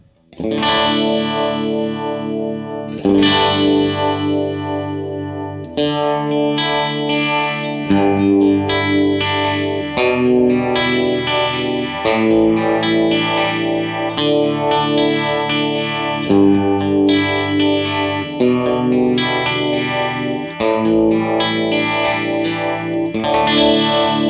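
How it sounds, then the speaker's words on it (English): Electric guitar runs through an Empress Nebulus pedal in vibe mode, sub-mode A, giving a classic 60s Uni-vibe sound: strummed chords in a steady repeating pattern with a throbbing, swirling modulation, played alone without talking. "with the switch set to the vibe position and selecting sub-mode A, we have a classic 60s Uni-vibe sound"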